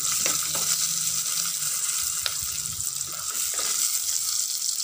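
Tomatoes hit hot oil with cumin seeds in a pan for sambar rice, giving a steady bright sizzle and frying hiss with a few small clinks and stirring sounds, close by and with no talking.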